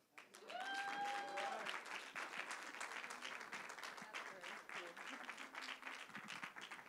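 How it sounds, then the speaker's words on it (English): Gala audience applauds in a sustained, dense burst of clapping that fills the room, opening with a few whoops and cheers and carrying on steadily without a break. "One more big round of applause for Dr. Parker."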